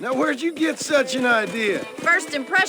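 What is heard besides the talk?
No everyday noise stands out behind the speech.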